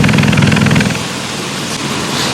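Exhaust note of a Hyundai Grandeur 240 undergoing repair for a lean air-fuel fault code, a loud, steady rumbling drone close to the microphone that softens slightly after the first second and continues alone.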